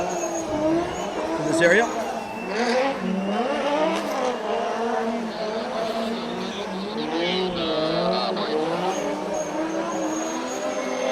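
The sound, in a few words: car doing donuts at a drift event, tires squealing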